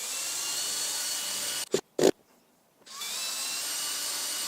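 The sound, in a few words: power drill driving screws to secure toilet tank valve head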